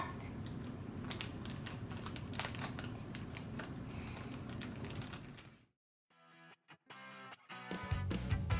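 Scissors cutting near a Peppa Pig camper toy: a stretch of steady, close rustling, a brief hush, then a run of sharp, crisp clicking snips.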